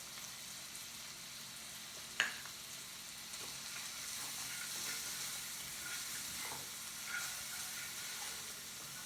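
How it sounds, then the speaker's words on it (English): Vegetables seasoned with garlic powder, pepper and crushed red pepper flakes sweat in a pan, giving a soft, steady sizzle with a few faint clicks and stirring sounds. "you just want to kind of sweat these a little bit, get them a little soft."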